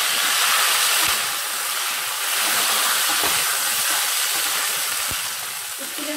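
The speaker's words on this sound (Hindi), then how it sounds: "इसमें डालेंगे बैंगन जो हमने लंबे लंबे पीसेस में काट के रखा हुआ है।" Long-cut eggplant pieces hit a hot pan with green chili, giving a steady, close, loud sizzle and hiss, with a few soft knocks as pieces land and are moved about.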